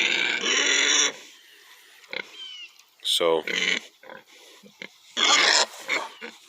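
Farm pigs grunt and oink in loud bursts close by, with short squeals between the grunts, while a person talks intermittently over them.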